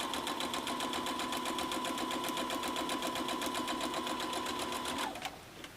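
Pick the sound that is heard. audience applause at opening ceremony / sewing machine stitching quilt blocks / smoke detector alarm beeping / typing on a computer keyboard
sewing machine stitching quilt blocks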